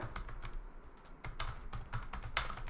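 Soft, rapid keystrokes on a computer keyboard continue in uneven bursts, close and fairly quiet, with no voices.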